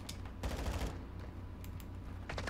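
Rapid automatic gunfire in a Call of Duty shooter, including the 556 Icarus and TAQ 56, comes in short bursts of quick, sharp cracks over a low rumble, fairly faint and without talk.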